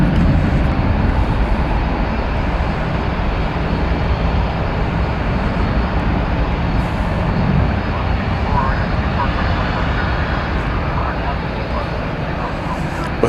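An MD-11 airliner roars at DFW Airport, a broad, loud, sustained engine rush that holds steady for the whole stretch with no clear talk over it.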